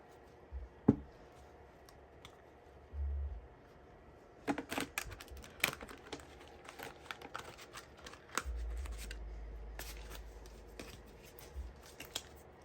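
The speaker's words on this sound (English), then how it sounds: "Give it another shuffle." Soft crackling riffles and dry taps of cards being shuffled, close by and quiet, with bursts of rapid flicking in the middle and a low rumble underneath.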